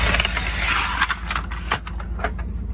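Dometic awning lift handle mechanism being raised, giving a few short metallic clicks and creaks over a low steady hum, close and moderately loud with no talk.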